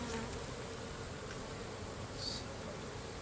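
A steady, dense buzzing of many honey bees close by, continuous throughout with no talking.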